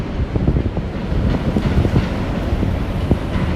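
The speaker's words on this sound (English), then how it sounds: "You can see in the background another Pink Line train coming through." A Chicago Pink Line elevated train rumbles past nearby in the Loop, heard as a dense, steady clatter with faint rhythmic clicks and some wind buffeting on the microphone, no voices.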